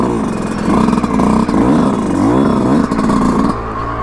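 A 2022 Yamaha YZ 125 two-stroke motorcycle fires up and revs, its engine holding a loud, continuous buzz with rising and falling pitch swells close by, then dropping to a steadier idle near the end.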